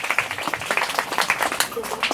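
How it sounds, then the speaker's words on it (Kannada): Audience at a Children's Day parent-teacher meeting at a school clapping for a speaker, a dense patter of many hands close by, overlapping with talk throughout. "ಮಗದೊಮ್ಮೆ ಸರ್ ಅವರಿಗೆ ಜೋರಾದ ಚಪ್ಪಾಳೆ ಮೂಲಕ ಅಭಿನಂದನೆಗಳು."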